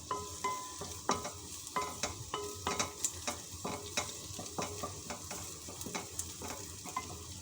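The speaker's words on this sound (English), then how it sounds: "onion and the garlic, and then just saute." Onion and garlic sauté in a pan with a steady sizzle, while a utensil stirs and scrapes in a quick, irregular rhythm of soft clinks close by, and no one talks.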